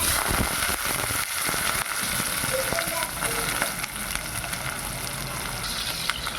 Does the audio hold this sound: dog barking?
no